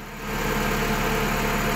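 Swapped-in 1.8T engine idling in a 1984 VW Jetta chassis, a steady, close, even running drone with a regular low pulse and no voices.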